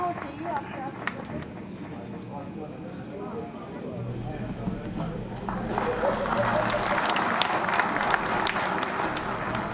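Applause rises at a ceremony welcoming a newly elected mayor and councillors, building midway into a dense, sustained round of clapping from a crowd, with a voice speaking over it.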